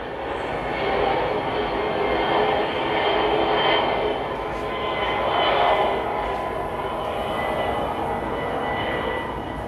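A Learjet approaches a busy airport during a midday rush, its steady jet roar hanging at moderate distance and swelling gently in a couple of slow waves, with no talk over it.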